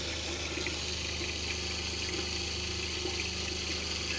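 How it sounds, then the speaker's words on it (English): Cold water runs steadily from a tap in a Roadtrek Zion camper van, a constant rushing flow with no pauses and no voices. "turn on the water and let it flow for a few minutes"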